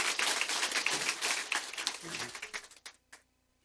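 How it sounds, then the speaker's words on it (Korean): A church congregation claps together in a dense, uneven burst of many hands, fairly close, with a few voices mixed in, before the clapping stops abruptly and the room falls quiet. "박수 한번 하겠습니다."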